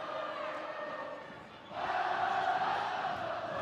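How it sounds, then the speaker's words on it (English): A high school student section roars and cheers at a boys varsity basketball game between Independence and Centennial, a sustained crowd din that swells louder partway through and stays loud to the end. "The student section coming alive."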